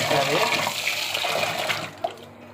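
Ragi grains being washed by hand in water, with sloshing and swirling splashes that run steadily and then stop with a small final splash. Voices are faintly present underneath.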